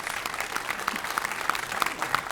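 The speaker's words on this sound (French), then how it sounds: "les applaudissements, ça fait plaisir." An audience claps steadily at a cinema premiere of Suicide Squad at the Gaumont in Rennes, with dense, even applause and a few sharper bursts above the crowd noise.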